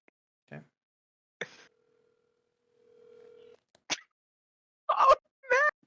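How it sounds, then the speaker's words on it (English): Telephone line tones while placing a call: a steady hum-like tone holds for a couple of seconds between short blips and clicks, with a brief burst of background voice near the end. "I'm gonna go ahead and make a phone call real quick"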